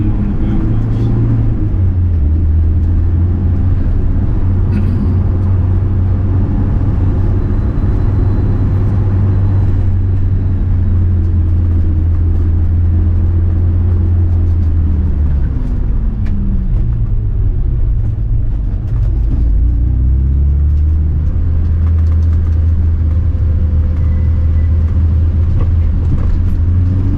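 A BMW 2002 Turbo drives up steep mountain roads at Genting, its engine a loud continuous rumble with shifting pitch as it climbs and eases, heard from inside the car with faint talk under it.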